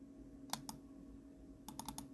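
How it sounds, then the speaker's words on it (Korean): Mouse button double-clicks while working in Adobe Illustrator software: two crisp paired clicks, then a quicker run of four clicks, close and quiet over a faint steady hum, no talk. "더블 클릭, 더블 클릭"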